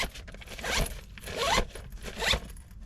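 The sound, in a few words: zipping up a compression packing cube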